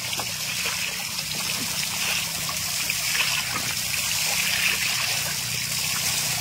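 Water flows naturally from a drilled well by the sea, running and trickling steadily nearby, a continuous gurgling flow that holds at an even level without pauses.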